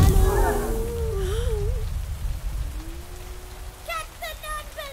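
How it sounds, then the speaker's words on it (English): Steady rain pours throughout a musical stop-motion scene, a dense wash of falling drops with a swooping whale-like tone and tonal chirps rising over it near the end. "Rain."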